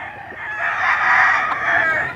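A breeding rooster crows loudly and close, one long drawn-out call rising and holding before tailing off, with no talk over it.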